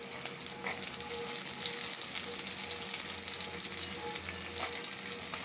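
Dried chillies, garlic and shallots sizzle in a pan with steady frying crackle and occasional stirring, moderately loud and continuous with no voices.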